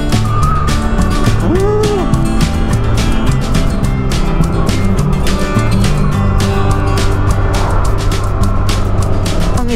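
A motorbike runs along a mountain road near the Pacific coast of Eastern Samar, its engine droning steadily and loudly throughout, with wind buffeting and a faint rising tone briefly threading through the hum.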